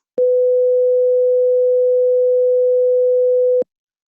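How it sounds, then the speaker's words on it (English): A steady pure sine test tone at 500 Hz, a single unwavering pitch sounding alone for about three and a half seconds with clean starts and stops and silence around it. "Okay, 500 sounds like this."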